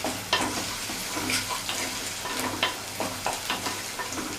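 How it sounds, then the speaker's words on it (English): Torn fresh curry leaves sizzle in hot oil with shallots for a Kerala fish curry while being stirred in the pan, a steady crackling fry punctuated by repeated scraping and clinking strokes of the spoon. "I'm tearing the leaves and adding in so that the flavors are released. Just give it a stir."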